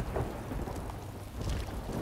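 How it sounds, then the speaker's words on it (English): A magical rain spell in the fantasy role-playing game Divinity: Original Sin 2 produces a steady hiss of rainfall with low rumbling thunder underneath, heard on its own at a moderate level. "Rain."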